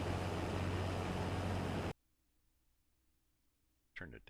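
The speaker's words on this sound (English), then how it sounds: "It's a loud engine too." A loud tractor engine droning in the Farming Simulator 22 video game, a dense steady roar that cuts off abruptly to near silence, then briefly returns at the end.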